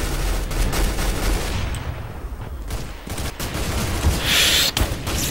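Rapid bursts of gunfire crackle through a Counter-Strike: Global Offensive match as a player shoots at a chicken, loud dense volleys with brief gaps and a sharp final crack near the end.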